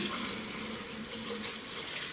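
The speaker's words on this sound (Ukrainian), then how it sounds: "І залити двома частинами води." Warm water running onto hops in a container while making homemade yeast, a steady close splashing pour without speech.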